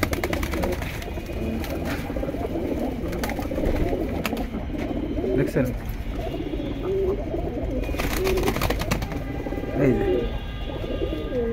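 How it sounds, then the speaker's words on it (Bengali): Several pigeons coo in repeated soft, throaty calls close by, layered over a continuous low background hum, while a person says a few words. "কিন্তু সিঙ্গেল অনেকগুলো কবুতর আছে।"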